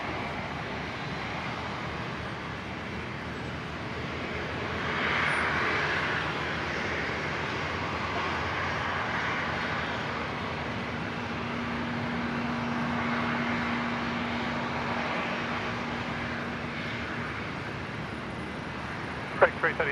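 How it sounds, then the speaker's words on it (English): A Rex Saab turboprop arrives on runway 19 left at Brisbane International Airport, a broad distant engine roar swelling and holding over the whole stretch, with people talking faintly underneath. "the next arrival, which is a Rex Saab coming in from Coffs Harbour"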